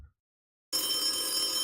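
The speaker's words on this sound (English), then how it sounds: "let's take that phone call" After a brief silence, a telephone starts ringing with a steady, bright, buzzing electronic tone that stays loud and close, with no one talking.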